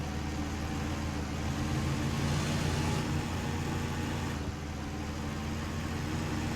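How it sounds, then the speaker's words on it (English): Stock truck engine idling in the video game SnowRunner, Scandinavia map: a steady, continuous low rumble with constant hum throughout, fairly loud and close, no speech. "Is that the stock engine sound?"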